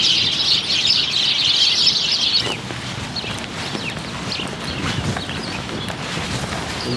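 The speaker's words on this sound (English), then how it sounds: "there's just like 100 million birds. And they're super cute and super tiny and really loud." A dense chorus of many small birds chirps and tweets at once, busy and fairly loud at first, then thinner over a soft background rustle.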